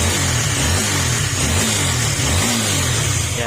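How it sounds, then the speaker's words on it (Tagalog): A motorcycle's overhead cam engine, fitted with aftermarket lining, is revved close up, giving a loud steady drone with rising and falling throttle swells and no talking. "Kahit sa pagbirit natin, hindi rin mahingi yung makina."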